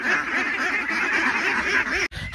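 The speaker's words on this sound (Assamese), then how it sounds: "দেখা পালা আমাৰ হাঁহখিনি 4 মাহত কিমান ৱেট হৈছে" Domestic ducks about four months old quack loudly and continuously as a close flock, their rapid overlapping calls filling the space with no talk.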